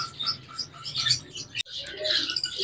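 A pair of lutino cockatiels at an outdoor bird market calls in a series of close, bright chirps and short whistles, repeated in quick irregular bursts.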